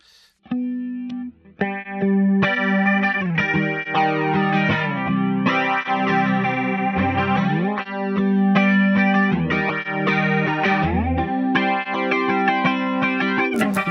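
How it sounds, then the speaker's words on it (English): Electric guitar notes and chords with a sweeping, whooshing flanger effect, played alone at moderate volume with rhythmic strums. "That's such a cool flanger sound"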